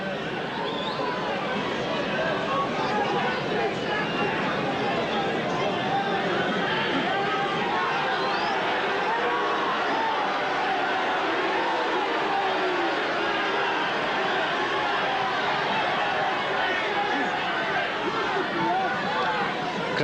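Rugby league crowd at a Hull KR versus Bradford Northern match growing incensed, a steady loud roar of jeering and shouting voices from a large stadium throughout, under a commentator's voice.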